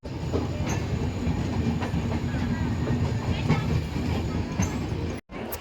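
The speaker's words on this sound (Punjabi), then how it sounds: "ਆਪਣੀ ਸੁਪਰ ਫਾਸਟ ਟ੍ਰੇਨ ਜਿਹੜੀ ਲਹਿਰੇ ਜੰਕਸ਼ਨ ਤੇ ਪਹੁੰਚ ਗਈ ਹੈ ਹੁਣ ਕਰਦੇ ਆਪਾਂ ਸਫ਼ਰ ਇਹਦਾ" A superfast passenger train runs on its rails between Lehra Junction and Ludhiana, giving a steady, loud rumble and rattle of wheels that goes on throughout, with a brief drop near the end.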